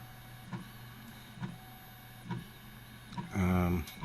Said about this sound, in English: this is my 3D printer.